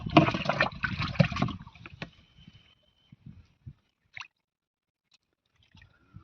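Water is poured into a drum while a fungicide spray mix is prepared, giving a loud splashing gush for about a second and a half that fades into scattered drips and small knocks.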